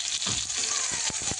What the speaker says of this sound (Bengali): তো মাছগুলো এখন ভাজা চলছে, এক পিঠ অবশ্য ভাজা হয়ে গেছে